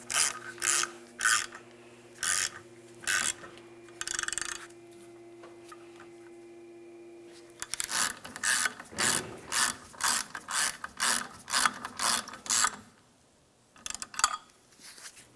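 A hand ratchet clicks in quick, even bursts while snugging EGR valve bolts on a 1998-2002 Lincoln Navigator, with a pause midway and another run of crisp clicks close up, no talking.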